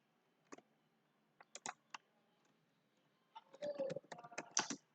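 Faint, sparse keystrokes on a computer keyboard while Python code is written, a few isolated clicks followed by a quicker burst of typing near the end, quiet room with no talking.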